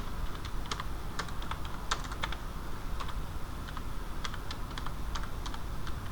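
An email address is typed on a keyboard, many light, quick key clicks in short bursts over a steady, fairly loud background hiss, with no talking.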